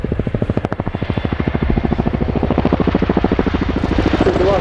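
An RAF Chinook HC.6A twin-rotor helicopter flies an air show display at RIAT 2018, its loud, rapid blade-slap thumping pulsing steadily with a strong engine drone, close and dominant throughout.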